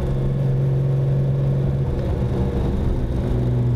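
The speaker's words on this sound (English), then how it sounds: "And you hear that engine is just..." A Lamborghini Countach engine on Pirelli P7 tires, running steadily in second gear with a deep continuous rumble and a droning low hum, heard close and without talk.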